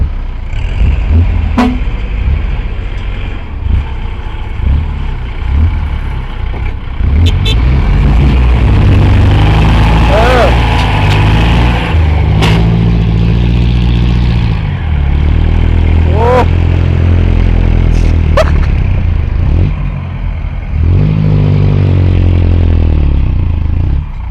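A dump truck's diesel engine rumbles while reversing, joined by clatter and scraping; voices talk throughout.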